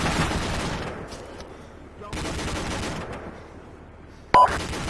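Rapid bursts of video game gunfire from a castle defense battle crackle through most of the stretch, with a sharp loud shot near the end and voices talking over the shooting.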